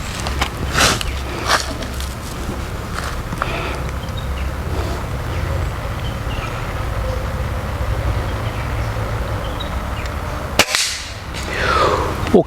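An air gun fires a pellet in a sharp, loud crack near the end, with a few fainter snaps earlier over steady outdoor background noise.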